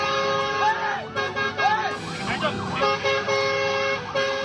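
A fire truck's wailing siren rises and falls repeatedly over street noise in Bali, with voices and traffic mixed in around it.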